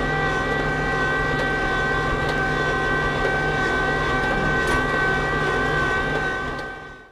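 A Kubota LX2610 compact tractor fitted with tire chains climbs in four-wheel drive, its engine holding a steady droning whine with tonal harmonics, loud and constant before fading at the end.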